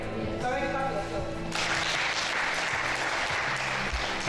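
Applause from a studio audience at an African reality TV reading competition, a steady dense clapping that swells loudly about a third of the way in and holds, with a voice speaking over the start.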